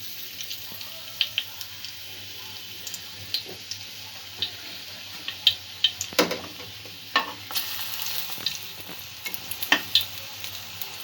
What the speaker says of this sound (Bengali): পকোড়াগুলো এইভাবে এপিট ওপিট করে একটু